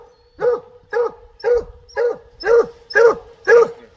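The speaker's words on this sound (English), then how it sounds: "A field trial dog." A field trial dog barks seven times in a steady rhythm, each bark loud and close, about half a second apart, with no other sounds between them.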